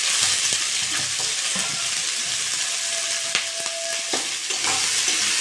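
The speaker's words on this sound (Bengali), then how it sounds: "এটা নেড়ে চেড়ে নেবো, নিয়ে ভালো করে ভাজবো।" Sliced banana stem and onion fry in a pan with a steady, close sizzle. A spatula scrapes and stirs through it with irregular clinks and scraping strokes.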